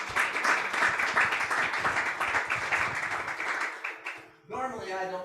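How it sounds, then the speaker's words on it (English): An audience at a seller finance seminar gives a steady round of applause, dense clapping holding for about four seconds before fading out, then a voice begins speaking close to the microphone. "can we give him a round of applause?"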